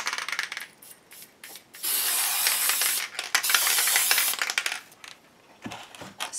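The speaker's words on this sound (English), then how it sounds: "next I'm going to bring in the Fast Grab Tacky Spray." Two long bursts of hissing spray from an aerosol can of tacky spray adhesive, close by, separated by a short pause and followed by light handling noises.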